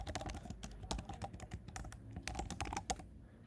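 Rapid computer keyboard typing while entering code, a dense run of close, crisp keystrokes with irregular rhythm and no talk.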